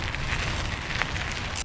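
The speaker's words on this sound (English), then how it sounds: "the rain is coming down fairly heavily now" Heavy rain pours down outside an echoey concrete tube, making a dense, steady hiss with a few faint crackling drops and no speech.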